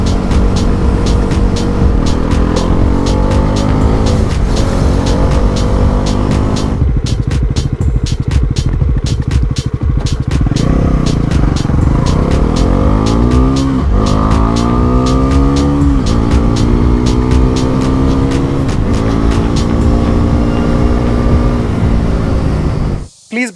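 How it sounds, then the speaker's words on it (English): A Bajaj Pulsar NS 400Z motorcycle ridden on a highway toward Amby Valley, its engine droning loud and steady throughout, with gear-change dips and rising revs across the run. "let me experience the bike a bit more, ride to Ambi Valley"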